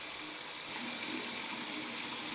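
Tap water running steadily while hands are rinsed under it at a sink, a continuous close hiss and splash with slight wavering as the flow is disturbed, moderately quiet and with no voices.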